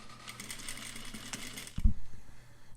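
Sewing machine stitching a French seam, a fast mechanical whirring of the needle running close up for under two seconds, then a clunk as it stops, followed by light fabric handling.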